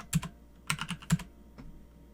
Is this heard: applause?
no